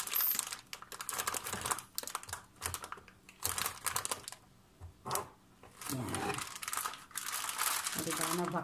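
Plastic bags crinkling and rustling as the air is squeezed out of them to seal bitter gourd inside, in bursts of loud crackling with a voice speaking between them.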